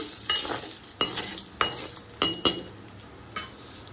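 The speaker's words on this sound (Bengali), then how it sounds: "কালো জিরা ফোড়ন দিয়ে ভালোভাবে নাড়িয়ে নিচ্ছি।" Black cumin seeds tempering in hot oil while being stirred, a constant hiss of frying with sharp periodic scrapes and taps of a spatula against the pan, close up and moderately loud.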